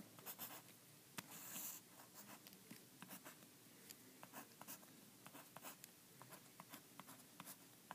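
A pencil drawing a graph on paper, with quiet, close scratching strokes and taps in an irregular rhythm, soft and alone throughout.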